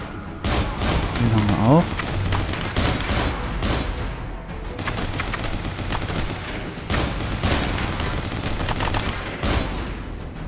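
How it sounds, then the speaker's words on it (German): Bursts of machine gun fire in the video game Robocop, repeated crackling volleys that start and stop over a steady battle din, with someone talking over part of the shooting. "Der MG-Schütze ist gefährlich."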